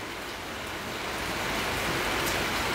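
Rain falling as a steady, fairly loud broadband hiss that stays even throughout, with no voices.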